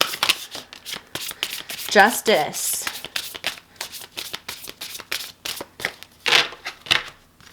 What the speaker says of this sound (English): So let me just split this so it's easier for me to shuffle.